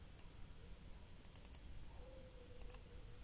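Faint, sharp computer mouse clicks come in small clusters, a single click, then a quick burst of three or four, then another pair, against a quiet room hiss.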